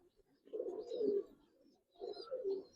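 Giribaz pigeons in a coop give soft, low cooing calls in two separate bursts, close and fairly quiet, with no talk over them.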